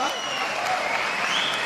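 An audience at a Vestige business success meeting breaks into dense, sustained applause that fills the room evenly, with no pauses.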